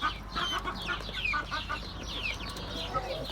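A young rooster clucks softly and repeatedly in a quiet farmyard, short scattered calls close by over faint background noise.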